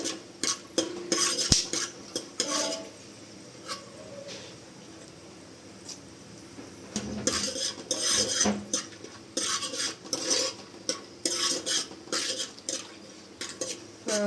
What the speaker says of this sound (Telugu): బ్రౌన్ కలర్ వచ్చేదాకా వేయించుకోవాలండి.